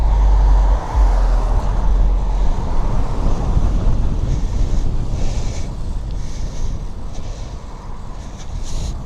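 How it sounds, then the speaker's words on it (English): Strong wind buffets the microphone of a fixed-gear bike ridden through city streets at sunset, a loud continuous roar with deep low-frequency gusts, no talking. "It's so windy."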